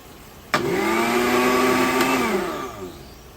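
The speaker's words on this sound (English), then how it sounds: "we don't have a food processor, so it has to be this blender" A kitchen blender used to make homemade jalapeño salsa switches on with a sharp start and runs as a loud, steady whirring motor for about two seconds before winding down.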